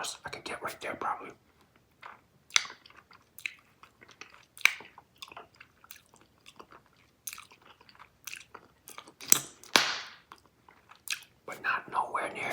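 Soft Big League Chew bubble gum chewed right at the mic with moist, irregular smacks and small pops, a louder crackling burst near the end, under quiet whispering.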